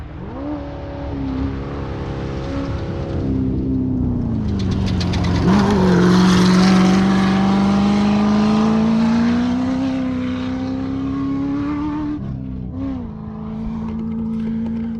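Desert race vehicle on its third lap in the Jackpot 250, its engine droning and rising to a loud revving peak as it passes nearby, then fading as it drives away.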